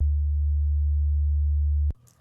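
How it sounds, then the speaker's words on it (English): A pure low sine wave tone from the first oscillator of a software wavetable synth holds steady and loud for nearly two seconds, then cuts off abruptly into faint noise. "We'll start by having the first oscillator set to a sine wave."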